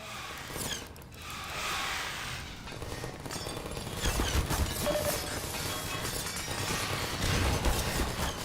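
Turrets in Half-Life 2 fire in sustained rapid bursts, dense mechanical rattling and impacts filling the scene, growing heavier in the second half.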